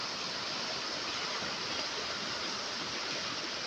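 Floodwater overflowing onto a damaged road in front of a house roars in a dense, steady wash of noise, constant and fairly close, with no voices.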